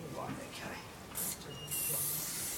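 A spray paint can sprays onto a board in two short hissing bursts, the second one longer, close and fairly loud, following some quiet talking.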